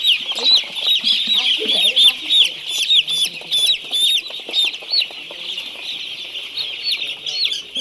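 Broiler chickens being caught one by one for eye-drop vaccination, a flock of high chirping peeps and clucks repeating closely and loudly throughout, with faint handling noises beneath.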